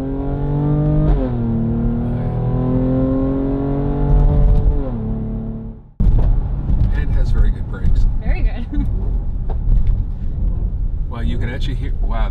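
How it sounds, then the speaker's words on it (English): A nearby Mercedes GLE43 SUV engine revs up through rising harmonics, drops as gears change and downshift pops sound, then turns into loud rumbling wind and road noise with popping bursts. "You can actually hear the pop as it continues to shift down in gears."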